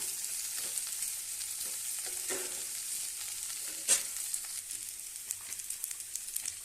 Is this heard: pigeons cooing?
no